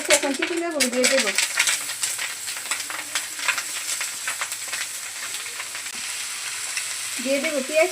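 Snake gourd goes into a wok where fish roe, seasoned with salt and turmeric, is frying with dried chillies. A steady close sizzle and stirring run throughout, with a voice speaking briefly at the start and the end.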